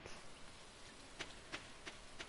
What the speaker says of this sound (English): And then it's raining, so we don't need to let them out.